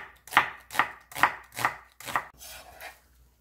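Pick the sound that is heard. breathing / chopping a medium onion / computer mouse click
chopping a medium onion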